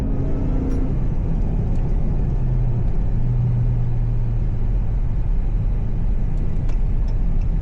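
Steady loud rumble inside a moving car, a continuous low road and engine drone with no talking.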